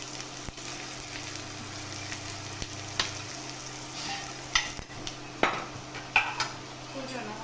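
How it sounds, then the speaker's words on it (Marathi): Chopped onion dropped into very hot oil for poha, sputtering and sizzling at moderate level, with scattered spoon clinks and pan knocks. "आता आपण तेलात चिरलेला कांदा टाकूया"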